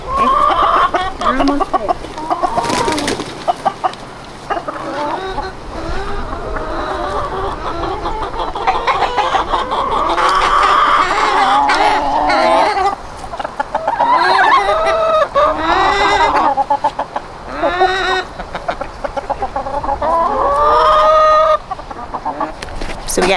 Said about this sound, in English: We got the rooster back into the chicken area.